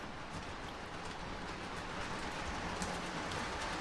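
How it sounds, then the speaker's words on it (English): Williams model train F-unit locomotives run on the track with a steady, soft rolling rumble and a faint rhythmic clatter, continuous and low in volume. "And these Williams locomotives just run so smooth."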